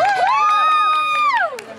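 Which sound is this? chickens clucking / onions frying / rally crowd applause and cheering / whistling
rally crowd applause and cheering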